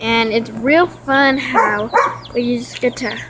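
A pet dog barks and yips in quick bursts, loud and close, mixed with a person talking over it.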